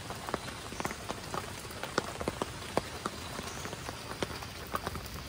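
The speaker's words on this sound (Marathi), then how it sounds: "दिवसभर पाऊस आहे." Rain falls steadily on a rural outdoor scene, a soft continuous patter broken by scattered louder drops striking nearby surfaces, fairly quiet and with no speech.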